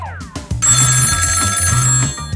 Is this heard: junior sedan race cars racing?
no